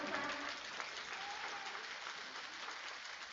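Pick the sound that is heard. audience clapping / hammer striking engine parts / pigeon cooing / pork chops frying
audience clapping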